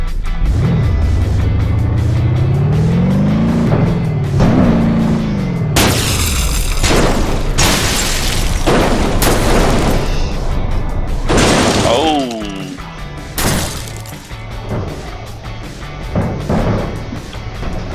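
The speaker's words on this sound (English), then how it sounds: "crash some cars off the big cliff here" Cars crashing off a big cliff, with engine whine building before a series of loud booming impacts, shattering and tumbling crunches as wreckage bounces down the slope, fading toward the end.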